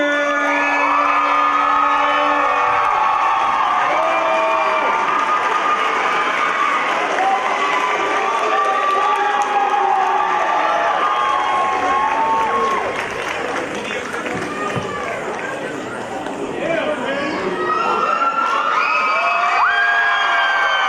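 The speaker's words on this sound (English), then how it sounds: "let's all have one more round of applause for all of our dancers" Audience at a Hmong New Year performance cheers, whoops and applauds loudly and continuously during the curtain call, with children shouting among the crowd for about twenty seconds.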